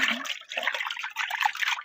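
Fertilizer solution for greenhouse cucumbers pours into a large container, a steady splashing, trickling flow of water that is close and fairly loud, with brief dips in intensity.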